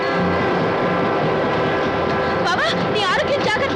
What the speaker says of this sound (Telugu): వచ్చిందిలే, ఏదో రైలు